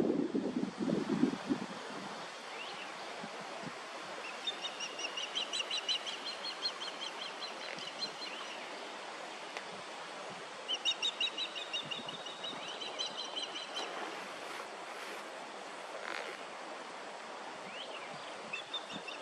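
A female osprey calling territorially at a nest on a bluff, with repeated bursts of sharp high chirping cheeps. The calls come in several runs at middle distance, with wind noise buffeting the microphone.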